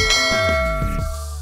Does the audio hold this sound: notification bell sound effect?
yes